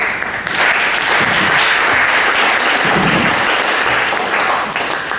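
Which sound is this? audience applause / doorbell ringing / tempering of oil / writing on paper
audience applause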